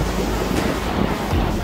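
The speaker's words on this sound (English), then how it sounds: "And you can already hear that wind starting to pick up." Wind gusting at the sea shore while saltwater fishing, a loud continuous rush of wind buffeting the microphone mixed with surf noise.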